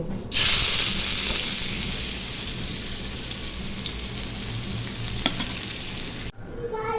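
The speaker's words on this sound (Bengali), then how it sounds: "মাছ ভাজা ওই তেলের মধ্যে বেরেস্তা করে নিব।" Onions frying toward crisp beresta in oil left from frying tengra fish give a steady, dense sizzle close to the pan, broken by a single sharp utensil tap near the end before it cuts off, with no voices.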